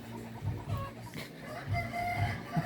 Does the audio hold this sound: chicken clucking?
yes